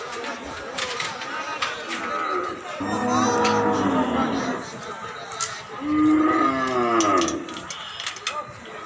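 Two long, deep moos from bullocks at a cattle market rise and fall one after another, fairly close, over a busy background of other voices and market noise.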